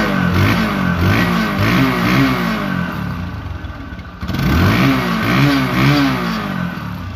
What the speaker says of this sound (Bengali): দেখো বাইকটির সাউন্ড এবং পারফরমেন্স